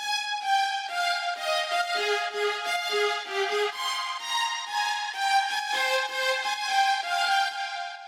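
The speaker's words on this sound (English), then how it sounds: "That's the Nexus patch, Lord of the Violins." A sampled violin patch, Nexus "Lord of the Violins", plays a bright, sustained melodic line with rich harmonics and clear note changes, solo and with no talking.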